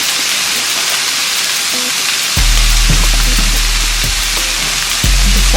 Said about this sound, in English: Add some butter here, and I'm just going to put some butter on the bread. Go ahead and put these buns on here.